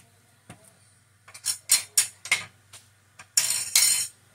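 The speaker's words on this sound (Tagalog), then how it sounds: "haluin natin" Spoon clinking and scraping in a pot of zucchini soup with beef and fish sauce, a run of sharp metallic knocks and scrapes at an irregular rhythm, close and fairly loud, without talk.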